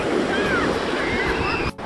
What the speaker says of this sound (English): These waves are really big today.